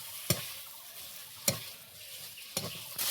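Ground spice paste being stirred and mixed into mashed potatoes for aloo chokha in a village kitchen, heard as a few soft scraping stirs spaced about a second apart over a faint background hiss.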